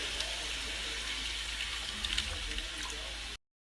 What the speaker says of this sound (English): we're going to hit it with some water. Just enough water to cover the meat.